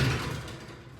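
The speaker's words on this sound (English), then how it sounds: "Bring the door down about halfway," Roller garage door pulled down by hand partway, a short rattling metallic rumble that fades over about a second, close and loud with no talk.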